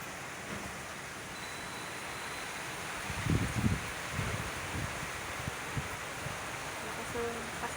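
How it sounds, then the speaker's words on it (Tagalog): Broad, steady rushing noise of wind through foliage, with a few louder gusts and rustles near the middle. "Lakas ng hampas ng hangin."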